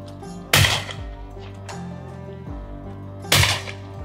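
Two loud shotgun blasts at clay targets ring out a few seconds apart, each a sharp crack with a short echoing tail, outdoors with no talk.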